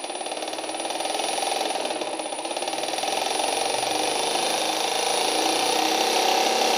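A small electric motor driven by PWM gives a steady mechanical whir with a faint whine. It builds gradually and grows slightly louder as its speed increases.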